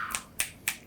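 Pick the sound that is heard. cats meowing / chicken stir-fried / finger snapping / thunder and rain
finger snapping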